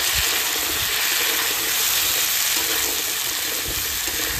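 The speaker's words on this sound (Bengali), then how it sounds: "আলু একটু ভেজে নিয়েছি, এবার পেঁপে দিয়ে দেবো।" Potatoes frying in a pan as papaya goes in, producing a loud, steady, close sizzle with a bubbling, hissing wash throughout and no speech.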